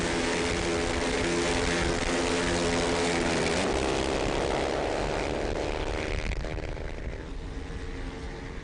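A racing motorcycle at the Indian National Motorcycle Racing Championship screams past at full throttle, a loud, high engine whine that holds and then drops in pitch as the bike pulls away, with no talking.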